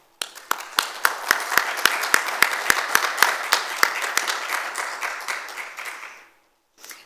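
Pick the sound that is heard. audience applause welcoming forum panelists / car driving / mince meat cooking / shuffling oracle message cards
audience applause welcoming forum panelists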